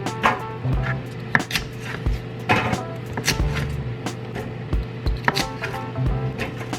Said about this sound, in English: just gonna chop the rest off of that